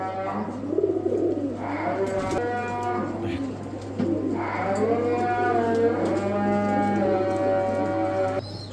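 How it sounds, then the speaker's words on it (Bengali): A pair of Lotan pigeons coos in deep, throaty, repeated calls, close and fairly loud, in several long phrases over a steady low hum. "সর্বোচ্চ কোয়ালিটির এক পেয়ার লোটন কবুতর।"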